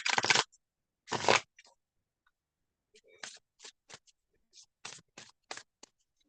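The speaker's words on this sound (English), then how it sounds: "I'm going to shuffle" Kipper tarot cards being shuffled by hand, with two loud riffling bursts near the start followed by a run of short, sharp card snaps and taps at a steady pace.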